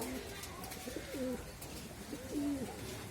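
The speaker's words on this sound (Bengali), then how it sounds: "এগুলো হলো আমার পাল্লার কবুতর" Two soft, throaty coos from racing pigeons during moulting season, one after another, over a low background hum; faint and unhurried with no voices.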